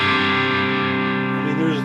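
An electric guitar played through a high-gain distortion pedal on a pedalboard rings out in a loud, sustained chord with a slight buzz, while a person talks over it.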